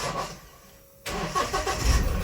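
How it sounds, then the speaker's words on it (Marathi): A car in neutral is cranked with the starter after a stretch of near silence, and the engine catches abruptly and settles into a steady, loud running rumble close by. "मी आता स्टार्टर मारून पण थोड्या वेळ चालू ठेवतो गाडी"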